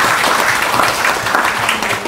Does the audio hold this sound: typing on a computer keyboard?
no